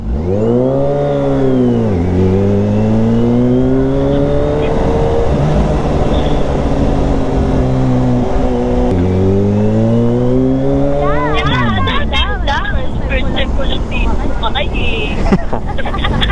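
A Kawasaki H2 SX big-bike motorcycle engine drones loudly and close, its pitch rising and falling through gear changes as the bike rides, with people talking over it throughout.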